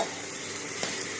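Basmati rice is stirred into an egg mixture sizzling in a pan, giving a steady close frying hiss with soft scraping for just over a second.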